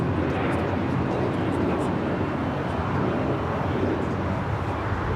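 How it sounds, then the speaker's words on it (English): A Boeing 777 freighter taxiing across runway 25 right at Los Angeles International Airport, a steady, broad jet engine roar heard from a distance, constant throughout with no break. "All right, Cargo King, 777 freighter will now cross over 25 right"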